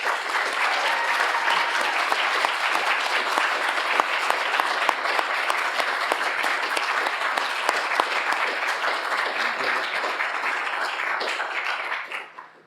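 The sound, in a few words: audience applause after lecture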